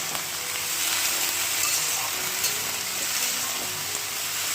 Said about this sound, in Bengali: চলো এইগুলোকে দুই তিন মিনিট আমি একটু নেড়ে চেড়ে একটু ভেজে নিয়ে আসি